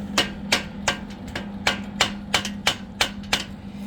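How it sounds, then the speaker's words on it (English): A small hammer taps a steel frame into alignment with about ten sharp metallic strikes at a steady rhythm, close and clear over a low background hum, with no talking. "Get you a little hammer. Okay, and you need to hit this one here a little bit."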